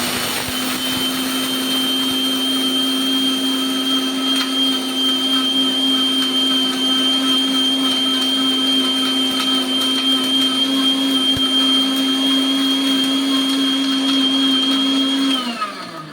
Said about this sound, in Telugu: ఇలా కొన్ని కొన్ని వేసుకొని మిక్సీ అయితే పట్టేసుకుందాం